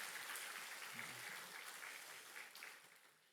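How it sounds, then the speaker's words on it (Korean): A church congregation applauds the choir after its hymn, a soft, distant wash of clapping that fades gradually, with a faint voice under it. "우리 귀한 찬양을 들려주신 우리 시온 찬양대에게 한 번 더 큰 박수 부탁드리도록 하겠습니다."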